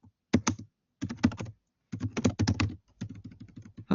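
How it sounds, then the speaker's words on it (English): Computer keyboard typing in bursts of quick, close, crisp key clicks separated by short pauses, in a quiet room. "I'm losing my typing ability."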